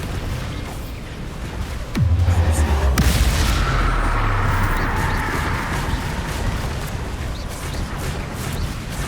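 The Bombarda explosion spell in Hogwarts Legacy goes off with a deep, heavy boom, then settles into a long, rumbling roar of debris and crackling that fills the rest of the moment.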